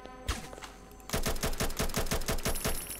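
Gunfire in the video game Roblox: a single shot, a short lull, then a loud, sustained stream of rapid automatic fire with a fast, even rhythm.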